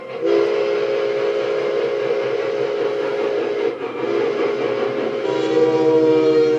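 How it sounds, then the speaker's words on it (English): A loud, sustained steam whistle blows continuously, its rich harmonic tone briefly dipping once before resuming, with train rumble underneath. "The haunting voice of the steam engines enchanted dreamers of every age."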